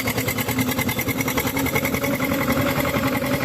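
An old Zetor 2011 tractor engine, about 53 years old, runs steadily at a low idle-like chug, loud and close, with a rhythmic mechanical clatter throughout.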